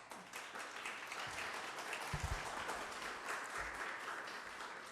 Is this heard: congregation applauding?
yes